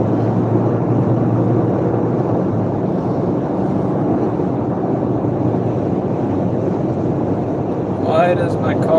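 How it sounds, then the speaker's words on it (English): Inside a car on the road, the engine gives off a loud, steady droning rumble with a rough, lawnmower-like edge, holding evenly throughout before a voice briefly cuts in at the end. "Why does my car sound like a lawnmower engine met a rubber band?"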